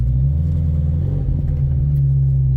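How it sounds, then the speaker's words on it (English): A 1994 Ferrari 348 Spyder engine and exhaust drone while driving, a loud, close, steady low rumble with an even throb throughout. "Revs up quick, crackles and pops."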